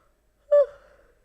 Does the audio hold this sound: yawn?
yes